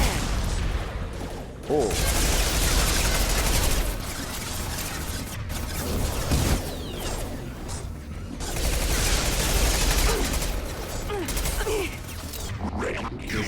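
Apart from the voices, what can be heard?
gunfire in video game Mass Effect 2 Legendary Edition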